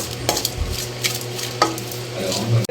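Curry leaves sizzle in hot oil in a pan for a crab curry, a soft continuous hiss broken by scrapes and clinks of a spoon stirring against the metal.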